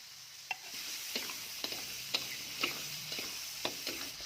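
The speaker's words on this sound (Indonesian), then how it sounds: "Tumis semua bahan sambalnya sampai matang." Shallots, tomato and bird's eye chili frying in oil for a Sundanese sambal, with a steady close sizzle and repeated light scrapes and clicks of a spatula stirring the pan, no voices.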